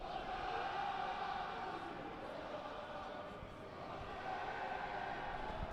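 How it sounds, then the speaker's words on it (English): French rugby fans in full voice at Twickenham stadium, a dense, continuous wall of crowd singing and chanting that stays steady and loud throughout. "They are fantastic, the crowd,"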